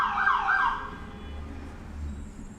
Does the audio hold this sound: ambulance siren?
yes